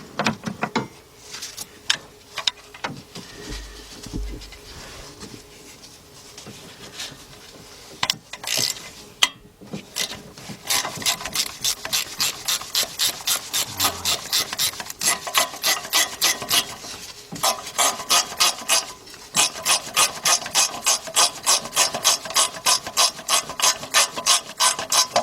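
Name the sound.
socket ratchet removing catalytic converter stud nut, 2001 Chevy Tracker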